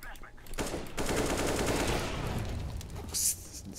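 Gunfire in the video game CS:GO on the Mirage map: rapid automatic bursts and shots crackle in a dense stream over a few seconds, with a sharper burst near the end.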